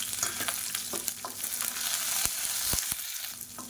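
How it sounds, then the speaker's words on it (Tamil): Shallots, curry leaves and dried red chillies frying in oil in a pan, a steady close sizzle with occasional scraping stirs and sharp pops, no voices. "பொடியாக நறுக்குனா சின்ன வெங்காயம் சேர்த்துக்கலாம்."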